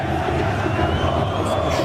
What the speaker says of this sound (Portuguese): Vamos mostrar aí a torcida do Corinthians ontem, lá na Argentina.